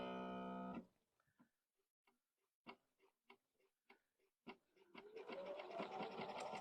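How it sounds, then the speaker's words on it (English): A sewing machine runs very slowly, giving a sparse series of separate ticking clicks, quiet and evenly spaced, before a louder whirring hum takes over near the end. "Obviously, the machine has to sew."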